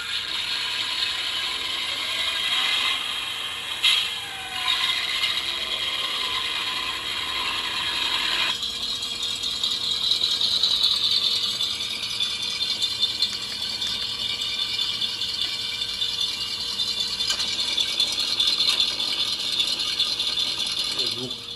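Engine sound effect of a 1:12 scale Kingkong RC ZIL 130 truck with its hood closed, a steady muffled mechanical whir with a high ringing whine, continuous and fairly close throughout.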